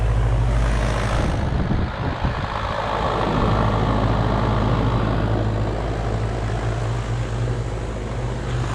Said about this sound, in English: And again, this one's a heat pump